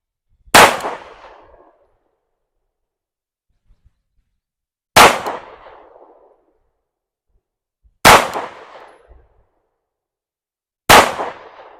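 Four sharp, loud gunshots from a PSA Dagger Glock-clone pistol firing AAC ammunition, spaced a few seconds apart outdoors, each a crisp crack with a short decaying tail.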